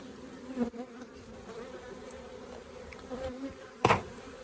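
Honey bees buzz around an open beehive with a strong honey flow, a soft steady hum close by with a few brief louder bursts, and no talking.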